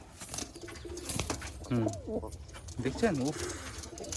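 Giribaz pigeons cooing in a loft, giving soft rolling coos in a couple of bursts close by, while someone talks quietly over them.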